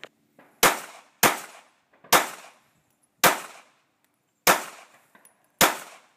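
Six sharp, loud gunshots from a Glock 42 pistol ring out close by at uneven intervals, each with a short fading tail and no talking.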